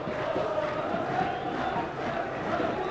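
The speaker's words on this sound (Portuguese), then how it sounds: "E a torcida marroquina continua fazendo a festa." Moroccan football supporters fill a stadium in Avignon, France, during a Morocco–Chile friendly with a dense, steady roar of chanting and cheering, held at an even level for several seconds.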